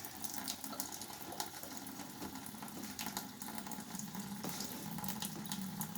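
Water running steadily from a kitchen tap in a home kitchen, a continuous close splashing rush over a sink that stays even throughout, with no talking.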